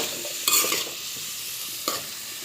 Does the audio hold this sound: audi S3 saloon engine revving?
no